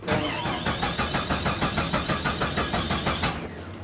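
A car engine with a weak, dying battery cranks with a steady, laboured rhythmic chug, struggling to catch for several seconds before cutting off abruptly.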